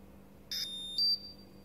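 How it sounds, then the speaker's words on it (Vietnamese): An IMR EX660 multi-gas detector gives two short, clear electronic startup beeps in quick succession, close and fairly loud against a quiet background with no talk. "Đó, thì bíp nhẹ."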